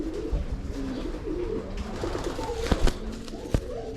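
A pigeon fancier's racing pigeon of the Mariano Lee and Emiel De Wit bloodline, coos close by in a loft in Bulacan, low throaty rolling calls repeating over a busy background with a few sharp clicks and knocks.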